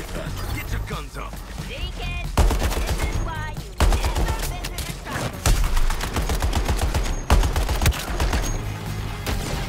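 Gunfire rattles through a fight in Suicide Squad: Kill the Justice League, loud bursts and rapid automatic volleys close up amid impacts, with voices talking over the shooting.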